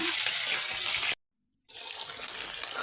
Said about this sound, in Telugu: తడిలో నుంచి ఆయిల్లోకి వేస్తున్నాం కాబట్టి కొంచెం జాగ్రత్తగా వేయండి